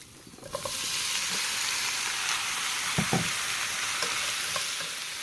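Cucumber sautés in a pan with garlic and onion, giving a continuous bright sizzle broken by a couple of sharp knocks from stirring near the middle; no voices.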